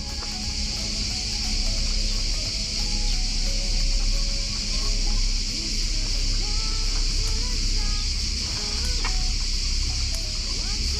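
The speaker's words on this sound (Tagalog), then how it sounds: "Jay mukhang di mo pinakain yung mga manok mo" Chickens cluck and murmur in short, scattered calls close by, over a steady background hiss of insects or ambient noise.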